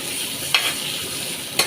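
Shrimp coated in salt and turmeric sizzle steadily in a hot pan, with two brief scraping clicks from a stirring spoon against the pan.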